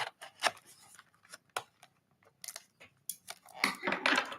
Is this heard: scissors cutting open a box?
yes